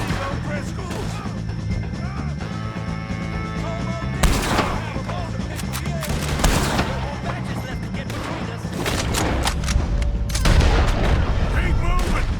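Heavy gunfire in the Western video game Red Dead Redemption 2 during a shootout with O'Driscoll gang members, with dense rapid shots and booming blasts continuing throughout under music and shouting voices.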